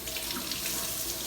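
Tap water runs steadily from a faucet to fill a makeup sponge, a close, even rushing splash with no talking.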